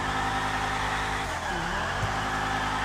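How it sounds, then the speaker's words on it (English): The engine of a Bravado Banshee 900R Super, heard in GTA V Online, holds a steady, loud droning tone that dips briefly in pitch midway, then returns. "Bravado Banshee 900R Super."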